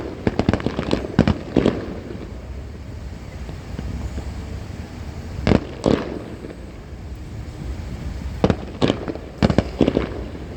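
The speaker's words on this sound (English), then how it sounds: "I finally found me one. A fireworks show," Fireworks show bursting outdoors with wind noise, several sharp explosive bangs arriving in irregular clusters, some doubled, loud against a steady windy rumble with no talk.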